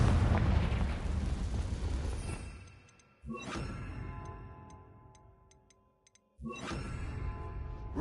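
Confringo fire-blast spells explode in Hogwarts Legacy, a rumbling blast fading out, then two more sharp bursts a few seconds apart, each trailing off into a long decaying roar, with no voices.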